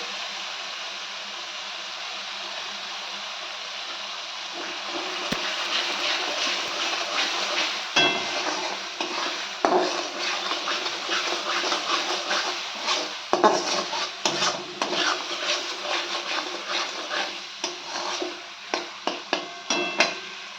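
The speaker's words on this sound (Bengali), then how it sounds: "এ দেখো মশলাটা অনেকটা কষানো হয়ে এসছে বুঝতে পারছো" Spice masala being stirred and fried in a pan makes an even sizzle at first, then frequent clanks and scrapes of a metal spatula against the pan that grow busier toward the end, with no talking.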